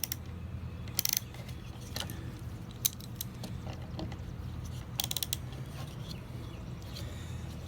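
A Craftsman 3/8 ratchet fitted with a straight screwdriver bit works at the thread-locked head of an 80v Kobalt trimmer, giving sharp metallic clicks and ratcheting bursts over a low background rumble.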